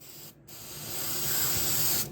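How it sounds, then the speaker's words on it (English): A short hiss of aerosol spray glue sprayed into cracks in a 2003 Dodge RAM 3500 dually interior, close by, starting after a brief pause and holding steady for under two seconds before cutting off. "we're just gonna spray the spray glue in there"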